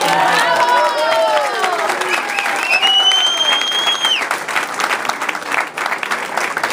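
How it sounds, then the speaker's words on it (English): Audience applause at a Latinos con Hillary campaign event in Arlington, a sustained wash of clapping with some cheering, heard alone with no talk over it. "And so to give them a big round of applause, please."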